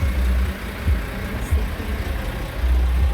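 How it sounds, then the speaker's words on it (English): Cars drive past and idle close by along a drive-through beside a pedestrian alleyway, a steady low engine rumble with a few louder swells as vehicles move, continuous with no talk. "there's a bit of noise because of the cars. They're making noise"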